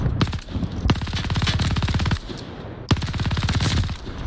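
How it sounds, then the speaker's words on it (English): Machine gun fire in the World War II video game Call of Duty: Vanguard, loaded with explosive rounds: rapid, loud bursts of automatic shots, three long strings separated by short pauses, with echoing reports. "Equips a machine gun with explosive rounds?"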